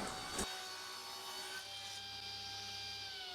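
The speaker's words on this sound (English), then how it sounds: "And now cutting the myrtle to 40mm." A saw cuts a piece of myrtle wood down to 40mm, giving a steady, close whine with a grinding, rasping edge that runs through the whole stretch and a brief louder burst near the start.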